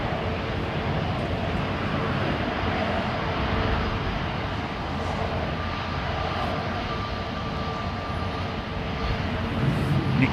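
A Gulf Air jet airliner at London Heathrow gives off a steady, broad engine roar with a faint whine, held at an even level throughout as though moving at a distance.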